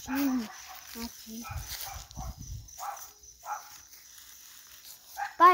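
A dog barks a few times at moderate distance in a quiet outdoor spot, short yips spaced between soft voices talking nearby.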